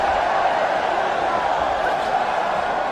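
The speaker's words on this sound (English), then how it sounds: "Record-setting crowd." A record-setting UFC crowd fills Etihad Stadium in Melbourne during a women's fight, producing a constant, broad arena roar that stays even throughout without distinct peaks.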